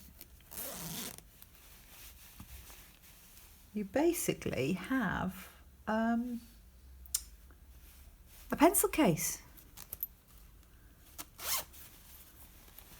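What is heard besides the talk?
zip being closed on a handmade pencil case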